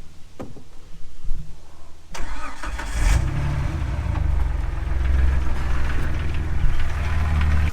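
A Jeep's engine cranks and catches after a few clicks and clunks, then settles into a steady, close idle that rumbles on for several seconds.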